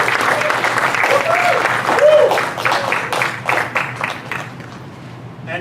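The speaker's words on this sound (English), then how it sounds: "So let's give him a round of applause" An audience at a student leadership academy winter workshop breaks into sustained applause, a dense wash of many hands clapping together that gradually thins and fades toward the end, with some voices mixed in.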